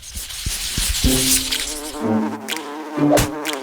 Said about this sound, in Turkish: Burada neden bu kadar çok sinek var sivrisineklerde?